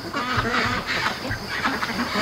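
Free range ducks give a relaxed, low chorus of soft quacks and murmurs nearby, a steady overlapping chatter with no voices over it.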